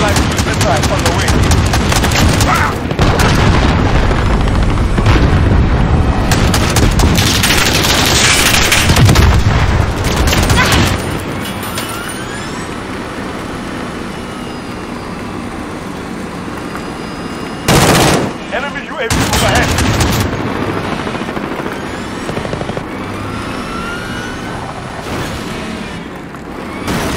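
Explosions and gunfire in Call of Duty Modern Warfare: dense, continuous rattling shots and heavy booms fill the first ten seconds, then quieter scattered fire and a sharp blast around the middle, with game voice callouts.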